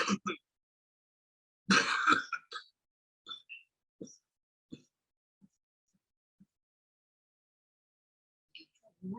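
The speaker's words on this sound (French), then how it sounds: "Allez-y, toussez." A few short coughs in a quiet room during a clinical examination, one louder burst followed by several faint, brief ones spaced apart.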